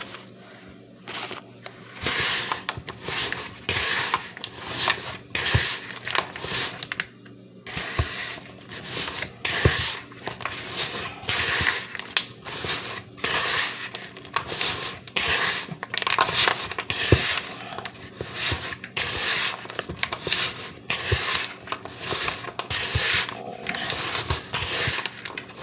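Cookie dough with chocolate chips, walnuts, dates and a splash of olive oil stirred in a bowl, a continuous run of thick, sticky scraping and squelching strokes in a quick steady rhythm, close and fairly loud.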